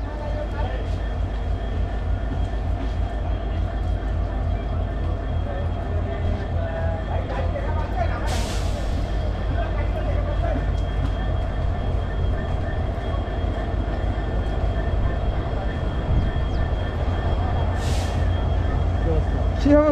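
Chilahati Express passenger train in Bangladesh hauled by a brand-new American-imported EMD locomotive, a steady low rumble of wheels and engine with rhythmic clatter and brief high squeals, someone talking over it.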